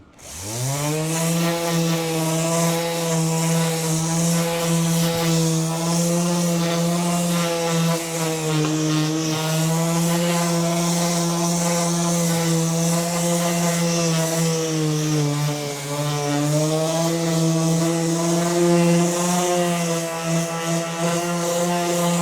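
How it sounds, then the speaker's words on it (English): An orbital palm sander works on a damaged catamaran hull, giving a loud, steady, close-up motor whine that holds an even pitch throughout with only slight dips under load, and no talking. "And then Orbital sander."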